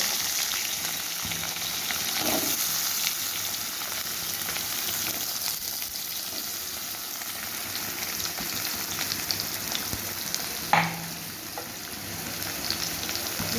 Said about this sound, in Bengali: প্রথমে আমি ডাটা আর আলুটাকে দেবো ঝিঙেটা একটু পরে দেবো ডাটা আর আলুটা কিছুটা ভাজা হওয়ার পরে ঝিঙেটা